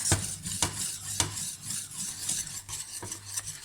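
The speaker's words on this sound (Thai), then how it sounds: "คนจนถึงก้นหม้อเลยนะ กวนไปสักพักหนึ่งนะคะ" A spoon stirs thickening pastry cream in a pot, scraping the bottom in repeated rhythmic strokes with soft clinks, close and fairly loud.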